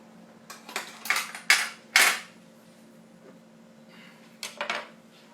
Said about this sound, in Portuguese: Só tirar essas colheres daqui.